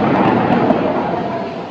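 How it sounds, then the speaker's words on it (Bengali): Loud, continuous rumbling thunder during a rainstorm, filling the whole stretch with a dense, rolling roar that barely fades, with no voices. "বাজ পড়ছে জোরে জোরে।"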